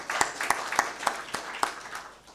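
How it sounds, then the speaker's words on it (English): Round of applause at an African regional conference, a few distinct handclaps in a loose rhythm, fairly faint and sparse. "Just give them a round of applause."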